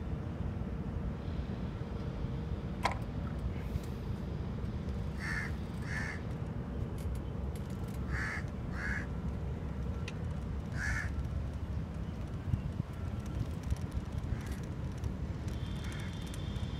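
Crows caw in short pairs at a distance at Dubai's abra harbor in the morning, repeating several times over a constant low rumble of engine or water noise.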